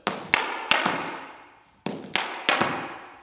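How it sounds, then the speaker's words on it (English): Irish dance heel clicks during a scissors jump: a quick sequence of about seven sharp, close taps and thuds, mostly in pairs separated by short pauses, heard alone. "try to click your heels, and on your way back, try to click it again"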